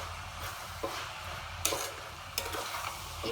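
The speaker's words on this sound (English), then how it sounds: "Keep stirring it and mixing it." Spicy mince meat with melting cheese being stirred in a pan, a steady sizzle with a few sharp spoon scrapes and clinks standing out, close and moderately loud with no voices.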